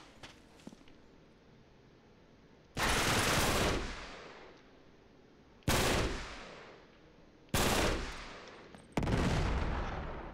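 Gunfire from Uncharted 3: Drake's Deception, with four loud, abrupt bursts of shots, each decaying over about a second, separated by quieter ambient game noise.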